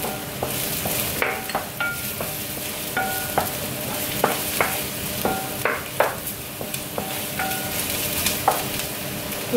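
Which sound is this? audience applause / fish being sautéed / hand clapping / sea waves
fish being sautéed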